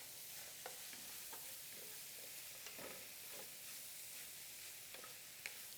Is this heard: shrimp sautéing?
yes